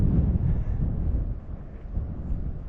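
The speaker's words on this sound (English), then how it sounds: "And I can hear the wind coming through the canyon." Wind blows through a barren desert canyon along the Ajo Mountain loop in Organ Pipe Cactus National Monument, a continuous low, buffeting rumble against the microphone that swells and eases slightly, with no other sounds.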